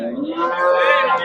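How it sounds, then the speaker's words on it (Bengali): Cattle at the Hazratpur livestock market after Eid let out a single close, loud, drawn-out moo. "সুন্দর সুন্দর গরুগুলো"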